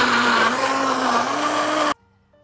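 A blender whirs loudly and steadily for about two seconds mixing carrot cake batter, then cuts off abruptly into near silence.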